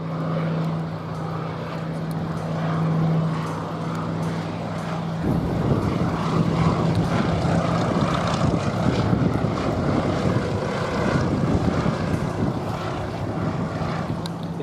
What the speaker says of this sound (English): a slow fly past with the naval ensign flying from one of the rear crew positions